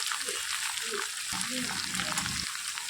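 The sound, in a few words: cauliflower stems frying in a pan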